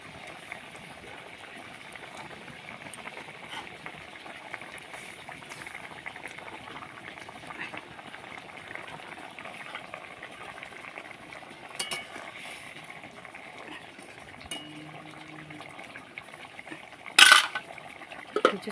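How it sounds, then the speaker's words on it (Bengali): Fish curry of hilsa with taro stolons bubbles quietly in a pot, a soft, steady simmer throughout, with a brief metal clink of a utensil against the pot near the end. "তরকারিটা আমার ফুটে গেছে"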